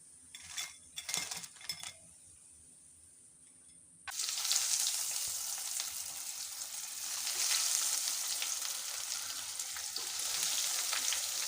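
Flattened rice (chira) snack pieces frying in hot oil: after a few quiet seconds with faint clinks, a strong, bright sizzle bursts in and carries on steadily with light stirring.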